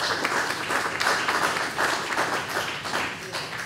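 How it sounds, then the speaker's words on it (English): Steady audience applause fills a library talk at the Terrebonne Parish Library in Houma, Louisiana, a dense wash of clapping holding evenly throughout with no clear pauses. "Give him another hand of applause"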